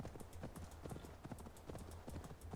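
Horse hooves clip-clop in a steady, rapid rhythm in Assassin's Creed Valhalla, close and fairly quiet, with no talking.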